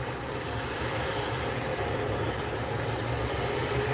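An Airbus A320-200 CEO bound for Boise holds a steady, moderately loud jet engine rumble as it taxis onto runway 24 right, with no other sounds breaking through.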